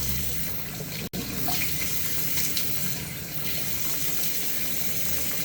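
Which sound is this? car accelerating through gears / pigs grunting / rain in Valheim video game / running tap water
running tap water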